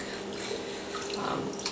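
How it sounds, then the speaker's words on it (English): Essential oil trickling slowly into a handmade soap base, a soft continuous liquid pour with faint dripping and gurgling, close and fairly quiet with no voices. "So I'm going to go ahead and slowly add that in to my soap."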